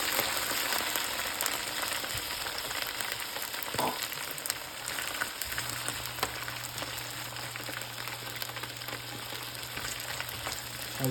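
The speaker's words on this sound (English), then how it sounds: "going to fry these until they're nice and dry" Okra sizzles in hot oil in a pan, cooking for an ochro and tomato stew; a steady, close crackling fry runs throughout with no talk.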